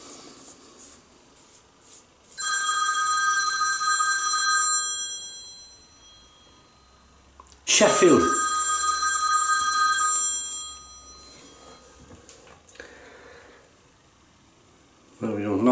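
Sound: mobile phone ringing

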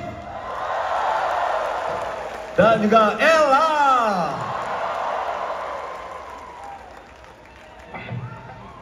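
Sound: audience applause at a concert

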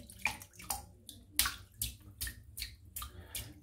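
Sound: wetting a shaving brush knot with water

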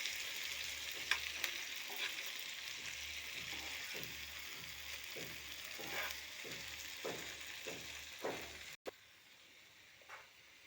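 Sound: stirring goat brain fry in a pan

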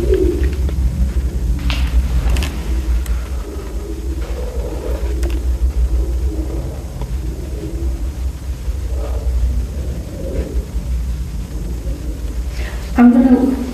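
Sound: pigeons cooing in abandoned airbase

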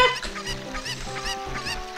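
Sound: chicken clucking in video game Ocarina of Time

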